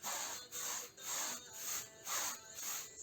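A brush scrubbing over wetted plaster glue on a fireplace surface in steady back-and-forth strokes, about six rhythmic rasping passes, close and moderately quiet.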